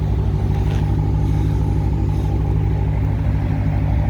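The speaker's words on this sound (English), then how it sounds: "The Mopar exhaust sounds real nice." A Dodge Challenger R/T with a Mopar exhaust rumbles loudly and steadily up close, a deep, throaty drone that holds for several seconds without talking.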